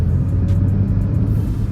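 Mahindra XUV3XO SUV accelerating on a light kick-down, a steady loud engine drone rising under acceleration inside the cabin, with no talking.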